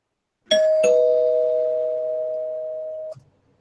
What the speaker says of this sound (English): I'll ring the spoiler bell at this point